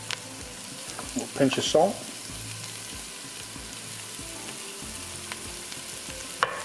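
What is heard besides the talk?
mushrooms frying in a pan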